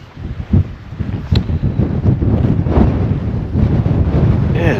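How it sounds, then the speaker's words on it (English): Strong wind gusts buffet the microphone at a solo tent camp in the Peak District, producing loud rumbling bursts and a continuous roar that builds in intensity. "absolutely howling wind since about 2 o'clock"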